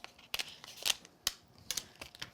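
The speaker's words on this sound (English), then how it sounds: "just nip that away on the sides here with the scissors" Scissors trim the edges of a die-cut paper card: a series of quick, close, crisp snips in an irregular rhythm, with no one speaking.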